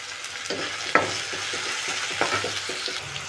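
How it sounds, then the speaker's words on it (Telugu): Sliced onions with a little salt fry in hot oil, a steady crackling sizzle broken by a few sharp clinks and scrapes of a spoon stirring the pan, close and continuous, no voices. "బంగారు అవన్నీ వచ్చే వరకు వేయించుదాం"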